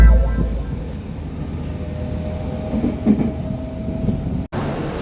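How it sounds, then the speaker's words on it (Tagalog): A commuter train in Shizuoka, Japan rumbles steadily with low rolling noise and faint track clatter, heard from on board or close by, with a soft background murmur and a brief dropout near the end. "Pasakyan na ng tren."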